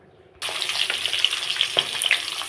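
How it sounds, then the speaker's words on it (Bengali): Fish sizzling as it is fried in hot mustard oil in a pan, a sudden loud crackling hiss starting after a brief pause and continuing steadily with small pops and spatters, close and alone. "তেল গরম হয়ে গেছে, এখন মাছগুলো ভেজে নেব।"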